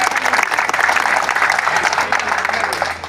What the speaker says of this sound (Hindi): वकील राम, एक बार जोर से तालियां होनी चाहिए।